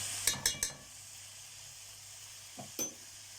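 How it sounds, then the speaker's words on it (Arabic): Vegetables sautéing in a pan for a stuffed-chicken dish with liver and gizzards: three quick sizzling bursts as they are stirred, then a quiet lull before two softer sizzles near the end, with no talking. "شوح كده الخضار يا حبايبي بالشكل ده"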